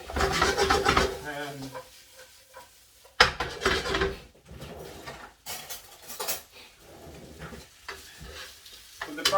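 Sliced white onions and tomatoes sautéing in a hot pan for a salted cod dish, with a steady sizzle, bursts of stirring and utensil scrapes against the pan, partly under a speaking voice.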